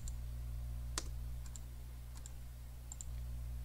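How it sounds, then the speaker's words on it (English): A computer mouse clicks on a link in a quiet room, one sharp click near the start and a few fainter ticks after it, all over a low steady hum. "Just click on it."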